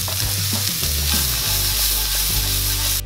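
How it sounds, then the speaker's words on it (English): Onions with garlic-ginger paste frying and being stirred in a pan for sukuti dry meat, a steady dense sizzle with scraping stirs throughout, close and fairly loud, no talking. "And mix it together until your onion and garlic ginger paste goes brown"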